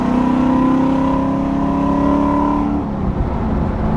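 Sports car engine driving and accelerating, heard from inside the cabin: a loud, steady drone with a rising engine tone that drops off near the end as the revs fall.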